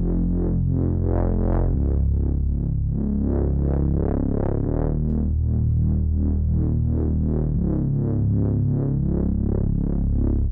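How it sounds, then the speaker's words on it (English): A liquid drum and bass bass line with an automated filter cutoff sweeping up and down, a sustained synth tone whose brightness rises and falls in repeating waves, loud and alone. "As you can hear, the cutoff goes up and down and up and down, and it just adds some extra spice to the track."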